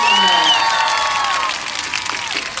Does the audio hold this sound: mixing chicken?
no